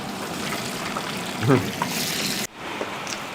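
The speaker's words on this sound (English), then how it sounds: "Hear that sizzling sound? Music to my ear. That means the oil hot enough, correct?" Continuous hiss of chicken frying in a little hot oil, a steady crackling wash with a brief muffled voice partway through.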